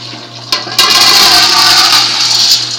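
Rinsed beans and their dirty water are poured into a strainer, giving a loud, steady rushing splash of draining water after a brief clatter, lasting a couple of seconds, with a low electrical hum underneath.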